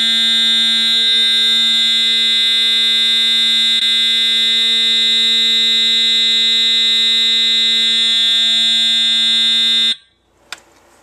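An Edwards EST 757-8A-T Integrity fire alarm sounds a loud, continuous electronic tone at close range for about ten seconds, then cuts off abruptly, followed by a short click.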